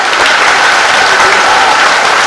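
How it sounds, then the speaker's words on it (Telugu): Schoolchildren and audience at the PACE NR school in Ongole clap loudly for their teachers, a dense, continuous wash of applause filling the whole stretch without pause. "ఒకసారి మీ ఉపాధ్యాయులందరికీ గట్టిగా క్లాప్స్ ఇవ్వండి."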